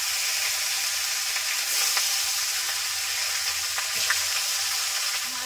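Pieces of ritha fish, including a head piece, frying in hot oil in a pan, giving a loud, continuous, close sizzle that holds steady with only slight flickers of crackle.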